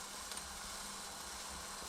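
Deer sausage sizzles faintly in hot lard during canning, a soft, steady hiss with no pauses and no voices.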